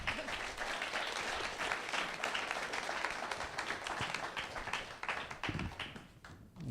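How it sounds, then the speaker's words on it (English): An audience at a panel discussion on architecture and design applauds the panelists with a dense, even stretch of clapping that thins toward the end. "So let's give them a round of applause."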